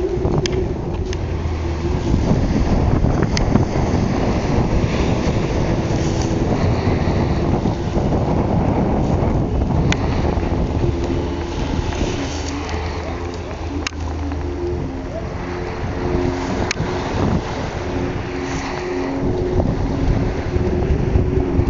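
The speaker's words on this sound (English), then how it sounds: "Boat going by." A boat passes on open sea off the British Virgin Islands near Virgin Gorda, heard as a steady loud rush of water and engine drone, heavily buffeted by wind on the microphone.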